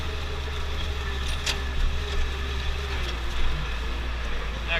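Steady low engine drone of a farm tractor working a field during tillage after planting, running continuously near and fairly loud at low revs with no talk over it.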